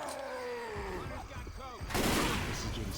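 Rapid gunfire bursts in Left 4 Dead 2 around an old abandoned mansion with a gun turret, dense and loud, growing heavier near the end, with a voice talking over it.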